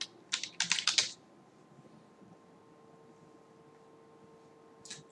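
Brief burst of keyboard typing on a computer while working in QuickBooks Online accounting software, a quick cluster of clicky keystrokes lasting about a second, then quiet room tone with a couple more taps near the end.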